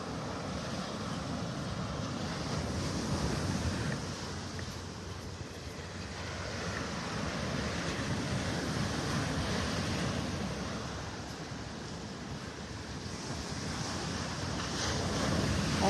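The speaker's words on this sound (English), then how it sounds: "That tide is on its way out now." Ocean surf rolls steadily onto Vanderbilt Beach in North Naples as the tide goes out, a continuous broadband wash of breaking waves mixed with gusty wind rumble across the microphone, with no voices.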